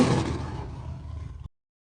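A tiger's roar, a single loud, rough, low growling burst that lasts about a second and a half and then cuts off abruptly into silence.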